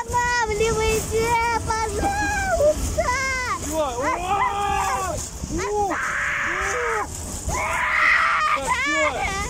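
A child screams repeatedly on an amusement park ride in Sterlitamak, loud, shrill and close, while an adult talks over the cries amid ride noise.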